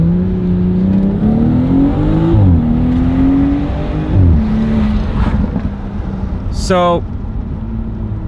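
A BMW with a dual-clutch transmission accelerates from inside the cabin, its engine tone climbing and dropping at upshifts with a slight lurch, under a close voice.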